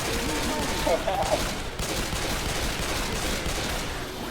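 Rapid automatic gunfire from the zombie shooter game Left 4 Dead 2, a dense steady rattle of shots with a brief burst of louder cracks near the start, continuing throughout with faint speech in the background.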